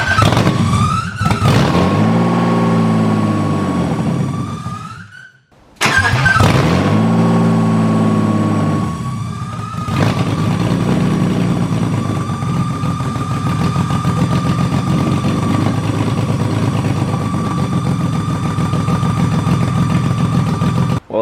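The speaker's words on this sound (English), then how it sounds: "That squealing noise you guys are hearing is because of the belts and the power steering." A BMW E30 engine cranks and starts twice, then idles steadily with a high, thin squeal of slipping belts and power steering running on top of the rumble.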